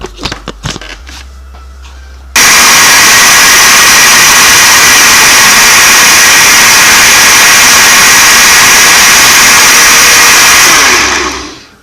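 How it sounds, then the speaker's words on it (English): A food processor pulses ingredients for a red bell pepper, chard and plum sauce, starting after a few light clicks and then running as a loud, steady whirring roar that cuts off near the end. "the next thing we're doing, we're going to be pulsing this"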